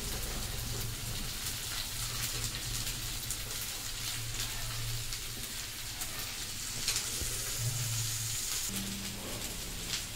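Onions sauté in a pan for tomato chutney, producing a continuous gentle sizzle and crackle like light rain, steady and close at low volume, with no voices.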